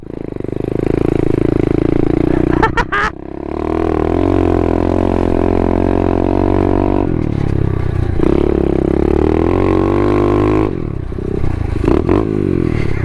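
A small 125cc SSR pit bike being ridden, its engine loud and close, droning steadily with rising and falling revs, a brief cut and clatter near the start and another dip toward the end.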